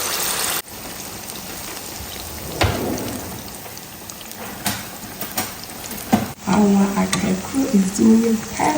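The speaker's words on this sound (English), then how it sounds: "go ahead and start frying our Akrakro" Plantain fritters (akrakro) hiss and crackle as they fry in hot oil, a steady close sizzle with scattered pops throughout, and someone starts talking over it near the end.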